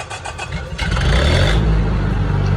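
A Lincoln welder engine fitted with a new Zenith 14257c carburetor, still warm and started without choke, cranks briefly and then catches into a loud, steady running roar up close.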